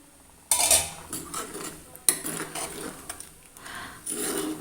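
A metal lid clanks as it is lifted off a pot of Malabar-style fish curry on the stove, a few sharp clattering knocks and scrapes in a quiet kitchen.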